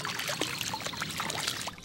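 Clear spring water trickling into the muddy Missouri River, a close, steady bubbling and dribbling with small splashy gurgles throughout.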